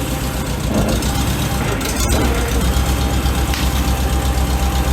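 A 1948 Farmall Super A tractor runs in first gear, its small engine giving a close, steady low rumble with a faint mechanical clatter that holds evenly throughout.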